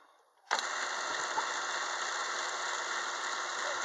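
Machined gear set on test, a driven gear meshing with a 16-tooth compound gear, starts abruptly and runs steadily with a close, even mechanical whir and fine ratcheting tick of meshing teeth, continuing unbroken without speech.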